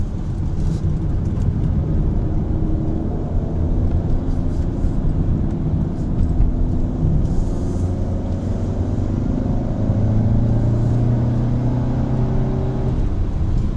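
A 2020 Volkswagen Tiguan Allspace R-Line 2.0 TSI with all-wheel drive is driven in sport mode on a mountain road, its engine a loud, continuous low drone heard from inside, with the pitch rising and falling slightly and no talk over it.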